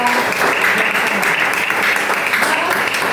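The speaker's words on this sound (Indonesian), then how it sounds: "Kasih aplaus untuk saudara." Students clap in a classroom during an Islamic studies practice lesson, a steady, loud burst of applause from many hands that fills the room evenly for a few seconds.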